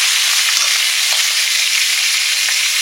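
Fish fries in a hot pan of oil, a loud, close, continuous sizzle and crackle with occasional small pops, steady throughout and with no voices.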